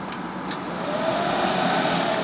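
A Dell PowerEdge T300 server powers on with a steady, loud broadband fan whoosh that swells and grows stronger partway through, sounding close and continuous.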